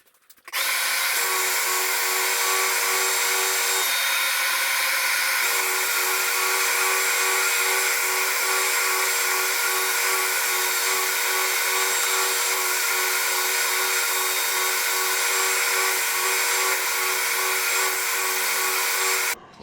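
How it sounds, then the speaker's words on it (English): A belt sander flattens wooden pieces for a saguaro cactus build with a loud, steady motor whine that holds for nearly twenty seconds, its pitch briefly dipping under load partway through. "So we're just going to run them all on the belt sander here."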